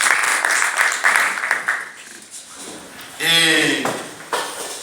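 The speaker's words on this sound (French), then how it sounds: "Merci de l'applaudir chaleureusement." An audience claps for a speaker at a panel on cocoa regulation in Côte d'Ivoire: a spread of claps in the first seconds fades, then a voice speaks.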